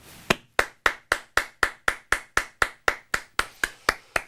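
Synchronized rhythmic clapping at a Cologne carnival society assembly: about fifteen sharp, evenly spaced claps, loud and close, in a steady beat with no talk.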